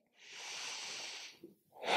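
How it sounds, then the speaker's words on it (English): One deep yoga breath, a close, soft, airy exhale lasting about a second, followed by a short pause and the start of another breath. "Let's take one more breath here."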